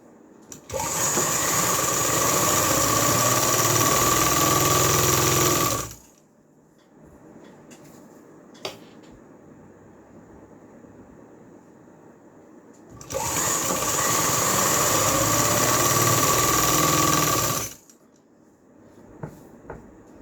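Sewing machine stitching a salwar waistband in two loud, even runs of rapid mechanical whirring, separated by a quiet gap with small handling clicks.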